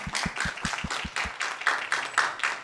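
A few people clap together during an online event, steady rhythmic hand claps at close range for a couple of seconds, with no talking.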